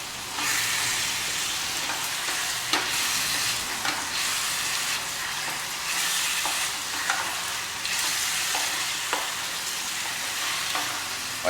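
Mutton keema with spices, dried red chillies and tomato purée sizzles loudly in a pan while being stirred, a steady close frying hiss broken by occasional scraping clicks of the spoon.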